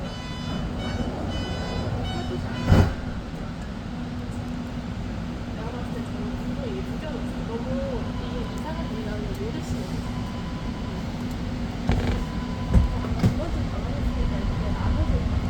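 A BART Fleet of the Future train on the Orange Line pulls out of Oakland's 19th Street station toward Lake Merritt, a steady rumbling drone with a low electric whine and occasional clunks, heard from the cab under an automated announcement.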